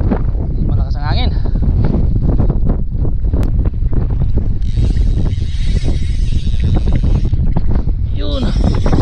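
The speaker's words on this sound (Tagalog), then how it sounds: "Malakas ang hangin." Strong sea wind buffets a small fishing boat, a steady loud roar and rumble of gusts across the microphone that never lets up, with faint voices under it.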